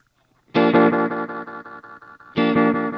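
Electric guitar played through a delay effect with the delay button engaged: a loud sustained chord rings and decays in repeating echoes, then a second strong chord strikes near the end, with no talking.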